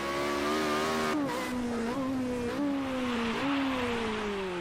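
Formula Renault race car engine on a snowy track, revving loudly and steadily throughout with pitch rising and dipping as the throttle shifts, close and continuous with no talk.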